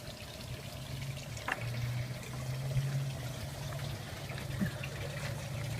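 Water pumped into the grow beds of a home aquaponics system, a quiet steady trickle and splash of filling liquid over a low pump hum, continuous and without talk.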